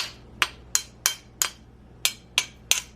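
A spoon knocks and scrapes masa dough for alcapurrias in a bowl, giving seven or eight sharp, clinking strikes at an uneven steady pace, close and fairly loud, with no talk.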